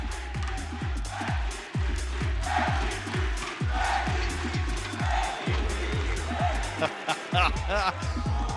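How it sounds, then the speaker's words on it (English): Esports crowd at a Valorant Masters Madrid match, PRX versus TH on the final map, cheering as a broad roar beneath steady rhythmic thumping music and caster talk, with a louder swell near the end. "He set the crowd off."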